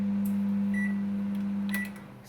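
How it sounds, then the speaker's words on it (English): An LG charcoal microwave oven hums steadily while a couple of short high beeps sound, close and fairly quiet. "So it's beeped after 10 minutes."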